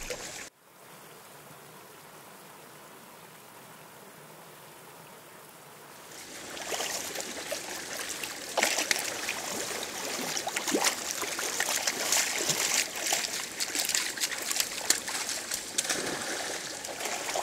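Steady rushing of a salmon stream at Morrison Creek on Vancouver Island, quiet at first and then swelling into a louder, continuous babble and splash nearby.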